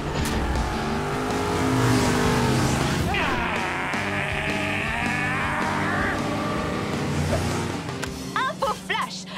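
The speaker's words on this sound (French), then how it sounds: "La plus grande course-poursuite de toute l'histoire de Hot Wheels City vient de commencer!" Cartoon racing cars in a Hot Wheels City chase, engines roaring and revving with a rising whine in the middle, followed by short bursts of effects near the end, loud and busy throughout.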